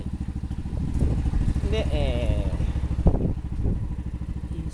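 A Yamaha Majesty 250 scooter engine idles with a close, steady low putter and a slight uneven pulse. Someone talks over it throughout.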